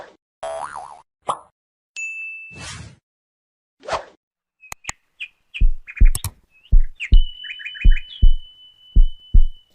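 Budgerigars chirping in short, sharp calls, scattered at first then a quicker series of bright chirps and clicks, close and clear against silence.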